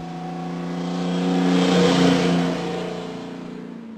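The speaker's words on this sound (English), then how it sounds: "Listen for signs of the enemy, such as engines running." A car engine rises in a smooth harmonic drone as it passes, swelling to a peak and then fading away, heard alone at moderate distance.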